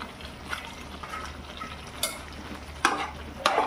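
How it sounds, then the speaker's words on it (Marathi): Paneer and vegetables stir-fried in a pan for veg biryani, with soft sizzling throughout and a few sharp scrapes and clacks of a spoon against the pan, close and moderately quiet, no talking. "ही भाजी आपली आणि ही पनीर याच्यात टाकते."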